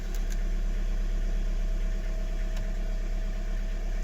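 An Audi A3 engine idles inside a garage, a steady close drone with a low rumble and faint mechanical vibration throughout, with no voices over it.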